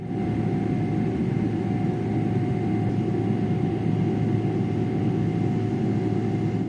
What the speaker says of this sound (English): we soon started taxiing out to the runway